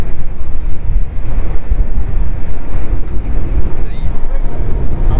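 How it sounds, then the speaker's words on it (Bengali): A speedboat runs across the sea toward Maya Bay in the Phi Phi Islands, its engine roaring steadily and loudly amid heavy wind buffeting and rushing water and spray. "আমাদের স্পিডবোট ছুটে চলছে মায়াবে আইল্যান্ডের দিকে।"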